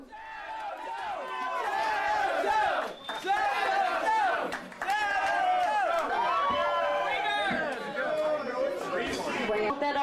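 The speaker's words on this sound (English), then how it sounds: "They said, "We want more."" Concert crowd at a band's show in Hamtramck, chanting and shouting together for more, a steady loud roar of many voices with rising cheers throughout.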